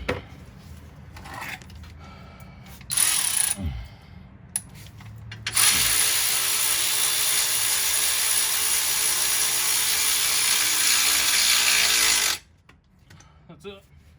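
A ratchet wrench drives a 10mm bolt on a bracket while a 2nd-gen Hellcat Charger is built up, with short clicking bursts followed by a long, loud, continuous run of fast ratcheting that stops abruptly near the end.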